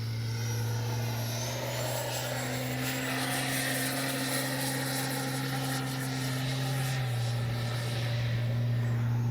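A HobbyKing Viper 64 RC jet flies overhead with a steady, loud turbine whine and a continuous droning hum that shifts slightly in pitch as it passes, heard alone without talk.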